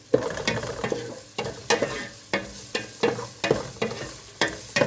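Ingredients sizzling and being stirred in a pan for Filipino mung bean soup with coconut milk, a steady frying hiss broken by repeated sharp scraping strokes at an even rhythm, close and loud.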